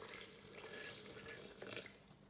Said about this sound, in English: And now let's pour in all the water, about 350 milliliters.